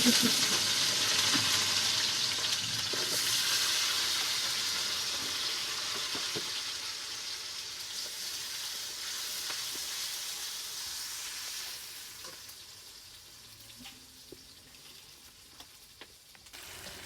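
Onions fry in a pan over a loud, continuous sizzle that eases down toward the end, with a few faint clicks and scrapes of stirring.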